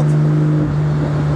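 A Jaguar Type C replica's engine hums steadily nearby, a low continuous drone with a slight rise in revs over a short moment, no voices.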